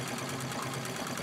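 Sewing machine free-motion quilting stiffened gold fabric, a brief, fairly quiet, steady rapid stitching hum with no talking.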